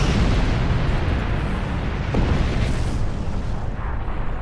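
Photon torpedoes firing in Star Trek Online, a loud continuous roaring rumble with dense low-end weight and a faint brief pop partway through, heard alone.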